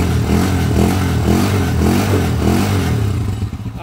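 A noisy motorcycle engine runs in a repair shop after an overhaul with connecting rod, timing gear, valve seal and cam follower work, idling in a close, loud, lumpy rhythm with rattly clatter before it winds down near the end.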